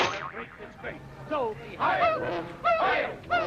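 A cartoon bird gives a run of honking, goose-like squawks in short rising and falling bursts, loud and close, about five calls in quick succession.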